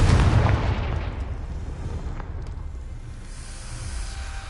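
A fiery Confringo spell blast in Hogwarts Legacy: a loud, close explosion at the start that rolls off into a fading rumble with crackling debris.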